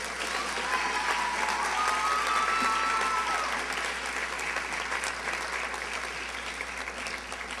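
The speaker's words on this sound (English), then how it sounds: "please give Christy a big round of applause." An audience at a high school winter sports awards night claps for the cheerleading coach, sustained and even applause filling the room throughout.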